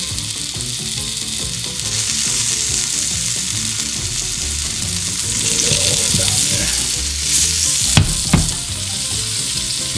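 A fresh-caught tuna steak sizzles steadily and loudly in a frying pan, with scraping and stirring sounds surfacing now and then and no talking.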